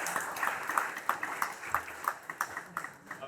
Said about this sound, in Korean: 다시 한번 감사드리고 박수 한번 부탁드립니다.